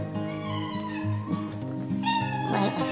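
A mother cat meows several times close by, drawn-out, whiny calls that rise and fall one after another.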